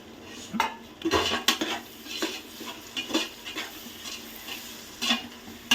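Chopped tomatoes frying in a pan for egg biryani, with a steady sizzle broken by repeated clinks and scrapes of a utensil stirring against the pan, close and moderately loud, no talk.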